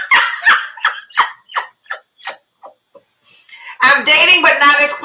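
A dog yaps a quick series of about a dozen sharp, high barks and yips, loud and close, trailing off before people start talking over the noise.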